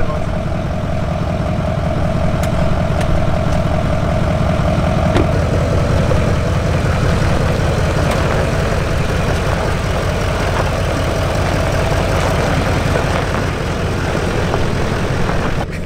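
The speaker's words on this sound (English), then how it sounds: "listening to the beautiful sound of a Duramax" A Duramax diesel pickup truck engine idles steadily and loudly nearby, its deep, even rumble holding without change for the whole stretch, with no voices.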